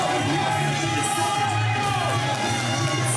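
Wrestling crowd at a Warriors of Wrestling event roars steadily as a wrestler makes his entrance, with dense cheering, whoops and shouts filling the arena throughout.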